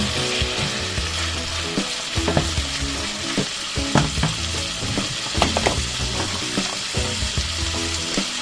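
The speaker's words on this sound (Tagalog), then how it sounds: "Isang halo lang muna ang gagawin ko dyan." Food fries in a pan while being stirred: a dense, constant sizzle broken by irregular scraping and clacking strokes of a utensil against the pan, close up, with no talk.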